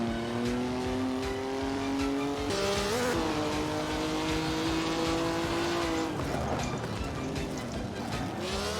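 Lancia 1955 Formula 1 race cars in Assetto Corsa on the Monaco circuit scream past with high, sustained engine notes that rise and shift through gear changes, loud and continuous throughout.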